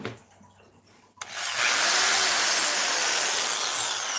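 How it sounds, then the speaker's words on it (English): After a second of near quiet, a power drill whirs up and keeps running at a steady, loud high pitch to the end. "my power drill"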